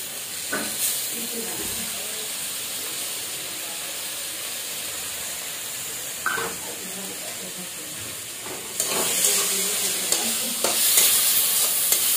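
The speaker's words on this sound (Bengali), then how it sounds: "এখন আমি এই ধোয়া রাখা ডালটা দিয়ে দেবো মুসুর ডালটা" Washed masoor lentils tipped into a hot frying pan with oil, a steady loud sizzle and hiss that swells sharply partway through, with clinks of stirring and brief bursts of spatter.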